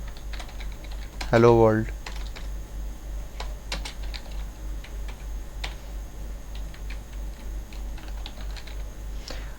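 Steady keyboard typing while writing C++ code, soft rapid clicks continuing throughout at close range, with a brief spoken phrase and a steady low hum underneath.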